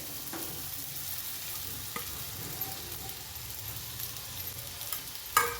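Potato and sago pearls frying and being stirred in a pan, a steady low sizzle with occasional scraping clicks of the spoon, close and continuous without any talk.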